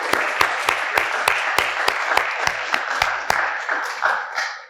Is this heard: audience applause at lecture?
yes